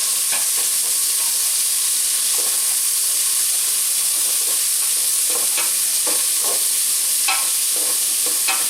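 Vegetables sautéing in a pan for a chilli with sausage, a dense, loud, steady hiss of frying with scattered clicks and scrapes from stirring, close up.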